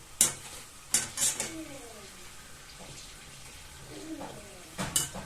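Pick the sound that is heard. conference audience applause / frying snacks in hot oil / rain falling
frying snacks in hot oil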